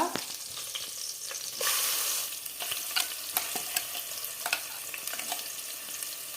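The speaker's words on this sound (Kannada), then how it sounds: "ಸ್ವಲ್ಪ ಹೊತ್ತು ಆನಿಯನನ್ನು ಈ ರೀತಿ ಫ್ರೈ ಮಾಡ್ಕೊಳ್ಬೇಕು ಇದೇ ಥರ ಎಣ್ಣೆಯಲ್ಲಿ ಸ್ವಲ್ಪ ಹೊತ್ತು ಫ್ರೈ ಮಾಡ್ಕೊಳ್ಳಿ" Onion paste fries in hot oil with a steady, dense sizzle, while a spoon scrapes and stirs through it in close, irregular strokes; no voices.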